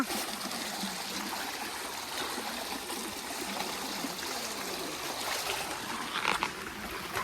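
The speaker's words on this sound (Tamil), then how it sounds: "இந்த அருவியை நம்ம கடந்து அடுத்த ஒரு கரைக்கு போறோம்" A village waterfall stream near Nagercoil, Kanyakumari flows steadily with a soft, continuous rush and trickle, heard fairly faintly with occasional small splashes and no speech.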